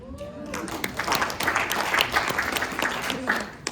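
Applause from an audience at a town hall gathering, a short burst of many hands clapping with uneven peaks, while someone speaks over it.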